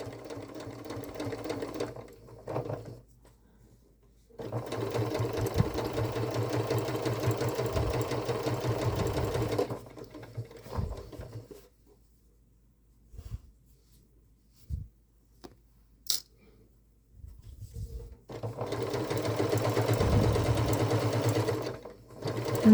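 A sewing machine stitches a curved seam on a Christmas stocking with toes, running in bursts of rapid whirring separated by quiet pauses and a few small clicks, close and moderately loud.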